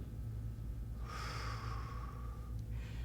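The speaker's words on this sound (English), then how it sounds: "When you take your breath in through your nose" A single slow breath drawn in through the nose during a Pilates-style balance exercise, close and quiet, a soft hissing sniff lasting about a second and a half over low background hum.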